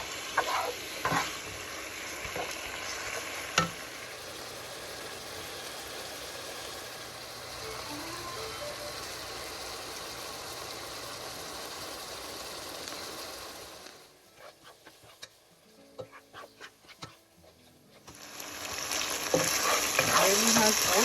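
Seasoned ground beef frying in an oiled pan while being stirred, a steady close sizzle with scraping and clinking that drops away for a few seconds before the loud hiss returns.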